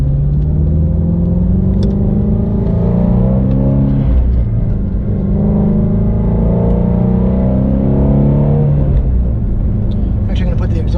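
A 2019 Shelby GT350R's deep, steady exhaust rumble idles loudly throughout while a person talks over it.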